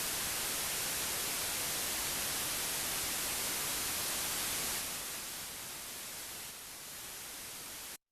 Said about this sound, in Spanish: el ruido blanco